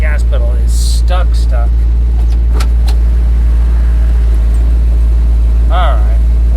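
A station wagon's car engine roars continuously, loud and close, its throttle held wide open by a stuck gas pedal, while a person speaks over the steady drone.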